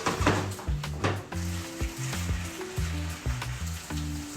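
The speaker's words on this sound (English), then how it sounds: "Let them fry." Potatoes frying in a pan: a close, crackling sizzle with pulsing bursts and faint tonal hum beneath, steady throughout without speech.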